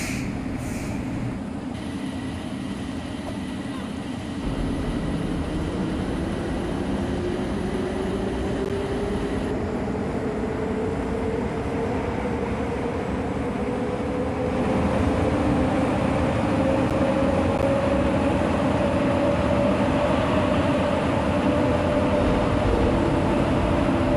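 A Bombardier Innovia APM 300 people mover in a Roblox airport rail setting pulls away from the station, a steady rumbling rolling roar with a faint rising electric motor whine that builds as the train gathers speed.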